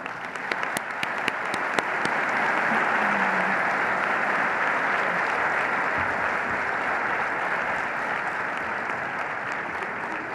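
An audience in a hockey arena applauds a convocation speaker at a School of Education ceremony: a few sharp early claps swell into sustained, loud, even clapping from a large crowd.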